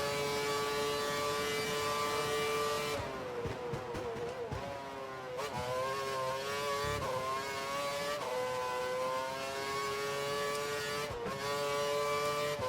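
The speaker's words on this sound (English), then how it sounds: "We think the car behind is running on full revs." A Formula One race car engine held at full revs in the F1 2012 racing game, a loud, sustained high-pitched whine that dips and climbs with gear changes and throttle, heard alone with no talk.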